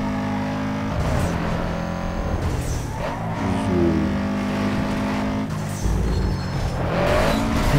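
Sports car engine in Need for Speed Underground 2 roars steadily with rising revs and gear shifts, and tires squeal briefly as it races, loud and continuous throughout.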